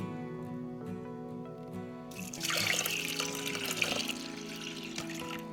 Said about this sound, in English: And then we'll add 2 cups of water.